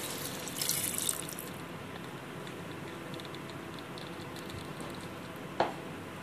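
Water is poured into a pot of cooking chicken, producing a brief splashing burst early on, then a quiet steady background with a single sharp clink near the end.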